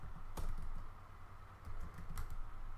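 Typing on a computer keyboard: a short run of soft, close key clicks with a couple of sharper taps, steady and quiet, with no voices.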